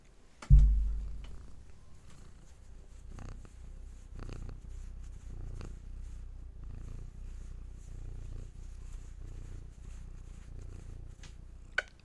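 A cat purrs softly and steadily close to the microphone, a low continuous rumble lasting many seconds, with a sharp bump at the start and a brief click near the end.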